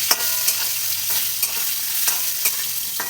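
Boiled potatoes sizzle steadily in hot oil, broken by several sharp scrapes of a spatula stirring them in the pot, close and clear with no talking.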